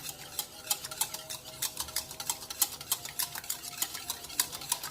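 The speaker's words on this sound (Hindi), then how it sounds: "इसमें तोड़ के और इसको जो है थोड़ा सा मैं मिक्स करती हूँ।" A broken egg is whisked in a bowl, a utensil ticking against the sides in a quick, steady rhythm of close, crisp strokes, with no voices.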